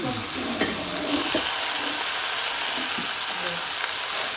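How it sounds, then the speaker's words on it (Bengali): A constant sizzle of vegetables for shukto frying with tempering spices in a pan, moderately loud, with a few faint clinks and stirring sounds. "সব কিছুই এখানে ফোড়ন দিয়ে ভালো করে ভাজা ভাজা করে নিচ্ছি"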